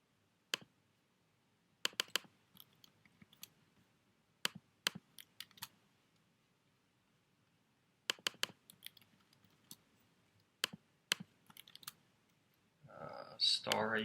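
Sparse, sharp computer mouse clicks come in irregular bursts while a WordPress site is edited, close and isolated in quiet, with a voice speaking briefly at the end.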